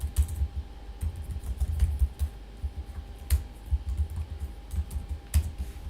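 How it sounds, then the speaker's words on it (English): Computer keyboard typing code: quick, close, uneven key clicks with occasional louder taps, over a low steady hum and with no voices. "here we just type the code also"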